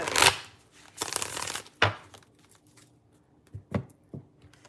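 Tarot card decks being shuffled in quick bursts, riffled and handled with short rustling flurries and softer taps between them, close and fairly loud.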